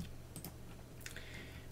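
Typing on a computer keyboard at a Linux terminal: a few faint, scattered key clicks, then a short quick cluster of taps, heard close up in a quiet room.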